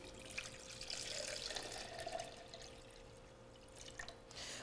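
Coconut water poured into a blender jug while a juice is made, a steady trickling, splashing pour running the full length at close range with a few drips near the end.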